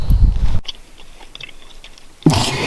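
Close, wet chewing of gum with soft crunching bites, loud at the start and again near the end with a quieter pause between, inside a 2021 Subaru WRX, no talk.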